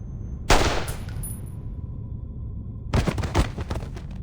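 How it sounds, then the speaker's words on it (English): Gunfire in the Reverse: 1999 game story scene, a sharp loud shot with a ringing tail, then after a pause a second rapid burst of cracking shots, no talking. "The gunshot finally hits true."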